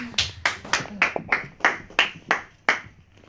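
A church congregation claps in praise of Jesus Christ. About ten sharp, even claps follow one another at a brisk, regular pace, close and clear with little else underneath.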